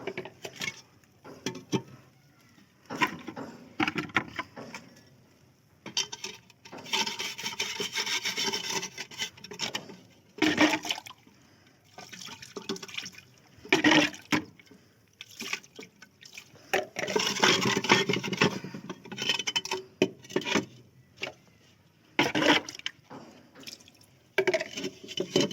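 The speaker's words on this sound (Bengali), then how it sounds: "এগুলি ধুয়ে নিতে হবে। আপনারা অবশ্যই 2 হাত কাজে লাগাবেন" Broken clay flower-pot pieces washed by hand under water, with repeated rubbing and scraping strokes and splashing drips, close and fairly loud in bursts with short pauses.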